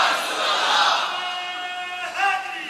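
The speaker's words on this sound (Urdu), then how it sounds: "آج تو دن ہے نا نعرے لگانے کا" A crowd at an Islamic sermon marking the Battle of Badr day shouts a religious slogan in unison, a loud sustained massed roar that dips and then surges again briefly, with no one speaking.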